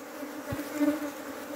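Agitated Africanized honey bees hum in a dense, unbroken buzz close by, swelling slightly midway through the brief moment.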